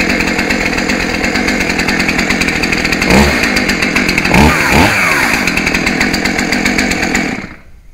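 Chainsaw engine running steadily and loudly up close, with a couple of brief revs partway through before it cuts off and fades at the end.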